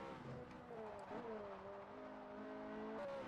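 A Ferrari convertible in the racing game Forza Horizon cruises up a scenic road at sunrise, its engine holding a steady, sustained note that rises and shifts gear, with a person talking over it throughout.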